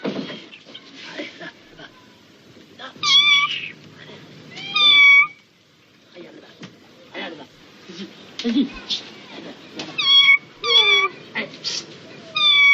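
A cat meows several times, short rising cries coming in clusters, close by, with faint rustling and handling noises between them.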